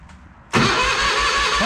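Toro Wheel Horse 520H garden tractor engine cranks briefly then catches and starts, settling into a loud, steady close-up idle with no talk.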